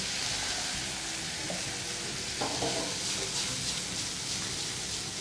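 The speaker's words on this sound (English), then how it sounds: "at this stage we are going to add just a bit of the white wine" Mushrooms frying in a pan after a splash of white wine hisses with a steady, even sizzle, low heat bubbling close and continuous with faint stirring.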